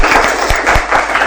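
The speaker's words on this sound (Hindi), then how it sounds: "धन्यवाद दीजिए तालियां बजाते हुए।" Church congregation clapping hands together in thanks, a close, busy burst of rapid clapping with a few heavier claps standing out.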